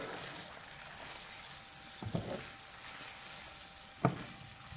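Spaghetti with white kidneys stirred in a frying pan, a soft steady sizzle with two brief scraping stirs, the second sharper, fairly close and with no talk.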